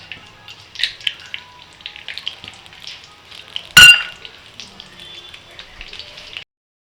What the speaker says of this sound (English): right now, we're adding 200 ml of just a normal vegetable oil. And this is to fry the bista.